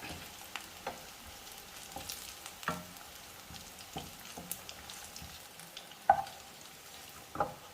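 Fish pieces frying in a shallow layer of oil, a soft continuous sizzle with occasional sharper pops and crackles, faint and close.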